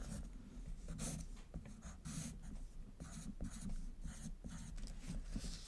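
A pen or pencil draws a picture on paper with steady close scratching and rubbing strokes and short pauses between lines. No one speaks.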